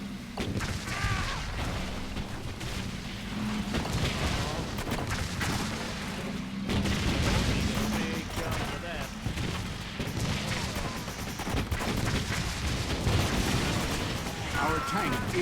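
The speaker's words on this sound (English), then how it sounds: "Our troops are under fire." Gunfire and artillery from the WWII strategy game Blitzkrieg 3 pound steadily through the whole stretch, dense repeated bursts and booms, mixed with in-game voices and a game soundtrack.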